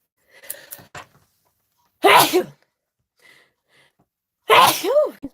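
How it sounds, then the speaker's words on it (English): A person gives two loud sneezes a couple of seconds apart, preceded by a short sharp inhale and gasp, close to the microphone. "going to sneeze."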